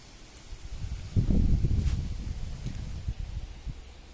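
Wind gusts through leaves, rising into a loud rustling swell, then settling into softer, uneven rustles.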